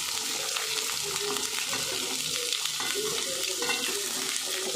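Finely chopped onion sizzles and fries in a pan with garlic and ginger for a Dhaba-style palak chole, giving a steady, close hiss with light stirring scrapes.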